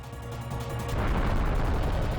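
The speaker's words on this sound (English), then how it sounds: "Ooh, big explosion." A big explosion in the Hybrid Heaven video game swells into a deep, roaring boom that rises midway and stays loud and rumbling to the end, following a stretch of pulsing game music and effects.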